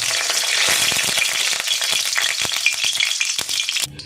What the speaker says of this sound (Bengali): তেল গরম হয়ে গেছে, শুকনো লঙ্কাটা একটু ছিঁড়ে দিয়ে দেবো।